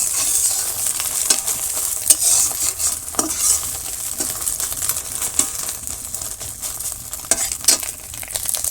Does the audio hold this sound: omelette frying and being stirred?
yes